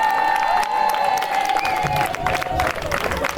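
Crowd applause with cheering fills a French regional team gathering, honoring volunteers from a building-site project at Bécours; steady clapping throughout with a sustained tone and some voices mixed in.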